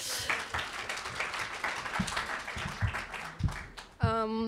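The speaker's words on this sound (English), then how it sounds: "So actually applause for her." Audience at a youth talk event applauds with scattered, fairly faint claps, ending in a brief high tonal sound.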